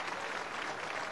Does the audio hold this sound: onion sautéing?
no